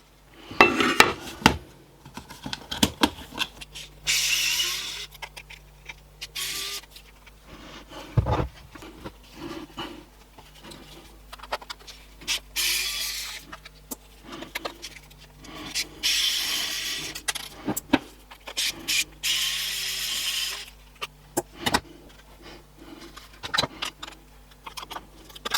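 Small mechanical screwdriver set working rusted screws loose on a garden solar light, with close scraping, clinking and rasping metal contacts in irregular bursts and a faint steady hum underneath.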